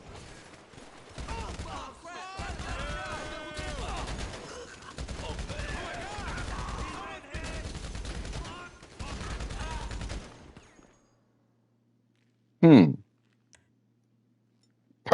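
Gunfire in GTA V Online, sustained bursts of rapid shots in repeated strings, loud and close, followed by silence and a single brief sharp sound.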